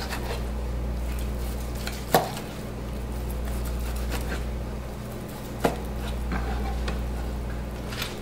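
Cooked meat is sliced for plating in a culinary arts practical: a few sharp knife strikes land on a cutting board over a steady low kitchen hum and a faint sizzle.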